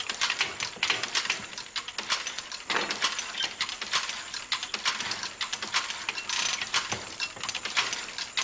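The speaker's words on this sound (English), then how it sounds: "The threading machine can be set to supply each needle with exactly the right length of thread." A needle threading machine for Swiss embroidery runs with rapid mechanical clicking and ratcheting, dense irregular ticks and clatters, close and steady throughout, with no talk.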